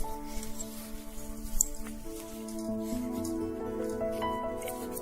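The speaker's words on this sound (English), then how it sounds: "Now I'm doing some water on these to activate." Water being brushed and dripped onto a Kuretake Gansai Tambi granulating watercolor set to activate the paints, soft wet squishing and dabbing close by under steady tonal background music.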